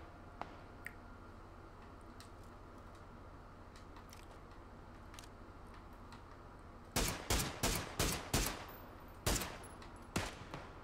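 Gunfire in the video game PUBG, a quiet hiss for several seconds before a rapid string of about eight loud, sharp shots in uneven bursts, trailing off into a couple of final cracks.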